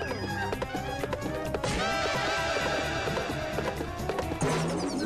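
A horse of Egyptian breed whinnying amid busy film action, the neigh rising over hooves, tapping and crashing noises and a dense background score.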